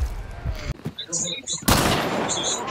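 Gunfire in the video game Hunt: Showdown, several loud sharp shots in quick succession with a heavy blast midway, mixed with game ambience and a voice talking over it.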